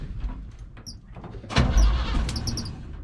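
A lifted 1987 square body truck rolls in gear with the clutch engaged, giving a low rumbling drivetrain and engine noise that swells partway through, with scattered mechanical clunks and creaks.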